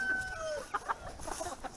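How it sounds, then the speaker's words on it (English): A flock of chickens clucks and squawks in a rush as they spill out of their coop, a close burst of overlapping calls with a rooster-like cry at the start. "You got a stampede, chicken stampede."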